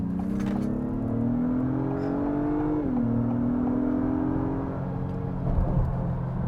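An Acura MDX Type S engine in Sport Plus mode pulls steadily under acceleration on an open road, its drone rising, dipping briefly at a gear change, then climbing again, heard from inside the cabin.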